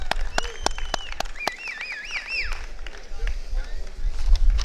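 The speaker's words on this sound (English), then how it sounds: "Round of applause for all the golfers participating." Scattered claps and light applause from a crowd honoring golfers at the Gasparilla Invitational golf event, with bird calls and voices mixed in.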